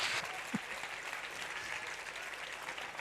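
A standing audience at a physics lecture applauds a professor with sustained, dense clapping that holds steady across the whole span, plus one brief louder thump near the start.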